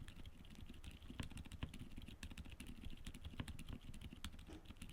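Fingers type on a keyboard fitted with budget silent linear mechanical switches, producing a quiet, rapid, irregular patter of muted keystrokes, close but faint, with no voices.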